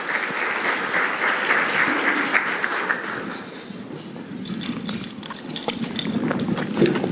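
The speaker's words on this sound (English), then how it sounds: "round of applause to Flagstar." Audience at a business breakfast forum giving a round of applause, dense clapping from a room full of people that dips midway and then swells again, with faint clinks of cutlery and dishes.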